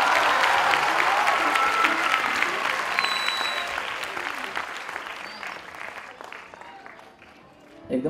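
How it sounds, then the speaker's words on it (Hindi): Loud applause from an audience at an event with 700 special children, strong and sustained at first, then gradually thinning and fading, with a few voices and whoops mixed in. "जब जोरदार तालियां बजती है"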